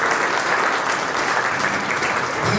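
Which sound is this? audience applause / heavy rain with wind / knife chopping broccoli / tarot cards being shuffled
audience applause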